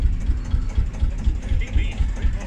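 A vintage tractor engine idles on tick over with a loud, low, rhythmic chugging that keeps pulsing evenly close by. Faint talk may sit underneath.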